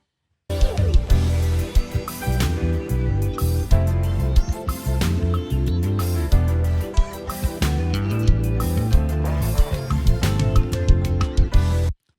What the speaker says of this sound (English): This is what the music sounds like with the bass.